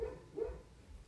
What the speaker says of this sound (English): oh, sorry about my dog barking